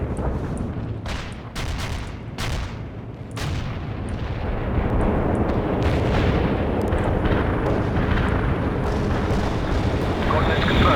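Artillery barrage in the war video game World in Conflict: a rapid series of sharp booming blasts opens, then merges into a dense, continuous roar of shelling and explosions.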